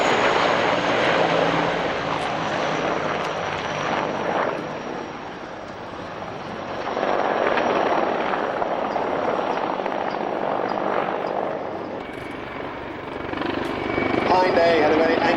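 A Mil Mi-24 Hind attack helicopter flying at an air show at RAF Fairford, its heavy rotor and turbine roar swelling and fading as it passes, with a commentator talking over it throughout.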